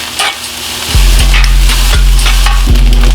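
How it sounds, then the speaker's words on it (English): Ginger sizzles loudly in sesame oil in a home hibachi pan while a utensil scrapes through it in several distinct strokes over the close, constant frying hiss. "Give it a good stir."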